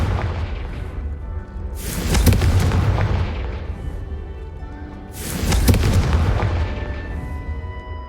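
Two heavy Confringo fire-spell explosions in Hogwarts Legacy, each a loud booming blast with a long rumbling tail, spaced about three seconds apart over low background rumble.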